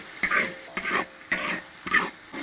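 Chili bean paste, pickled chilies and sour radish are stir-fried in a wok, making four loud, rhythmic bursts of scraping and sizzling as the spatula tosses them, with short pauses between strokes and no voices.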